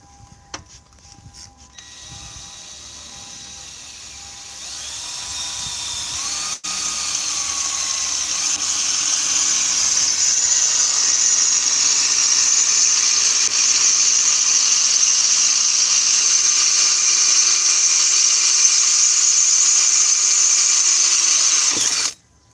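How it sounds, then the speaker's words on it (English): An INGCO drill bit bores through a 4.54-thickness metal plate, a loud steady high-pitched whine that spins up after a few seconds, holds for about fifteen seconds, then cuts off abruptly. "now I will show you how to use this drill bit to make the hole"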